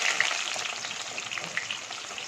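Onions sizzle in hot oil for a masur dal curry, a steady close crackling and hiss with occasional brighter pops as the pan is stirred.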